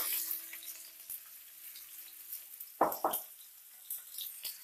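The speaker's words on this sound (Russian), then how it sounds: "теперь отправляю в горячее масло наш лук" Soft, steady sizzling of onion frying in hot oil in a pan, with a few faint clicks and scrapes near the pan.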